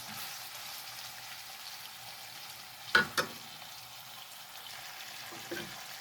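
Beef frying with garlic in a pan gives a low, steady sizzle, broken around the middle by two sharp scraping clacks of stirring and a softer knock near the end.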